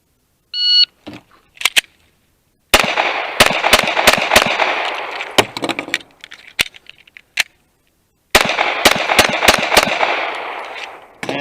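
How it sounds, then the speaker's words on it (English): Semi-automatic pistol fired in two fast strings of sharp, loud shots, several in quick succession in each burst and separated by a short pause, with a brief beep before the first string. "Okay, so next up, the semi-auto pistol."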